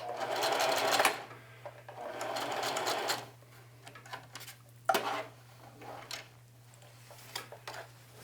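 A sewing machine back tacks on a jeans pocket in two short bursts of fast stitching, each about a second long, followed by quieter handling clicks and taps of the fabric and machine. A steady low hum runs underneath throughout.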